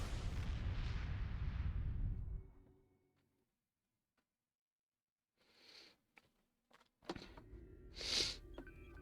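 Starship weapons fire in Star Trek Online, a loud broadband burst at the start that fades over two seconds, then near silence, followed by scattered sharper blasts and a bright high-pitched bolt near the end.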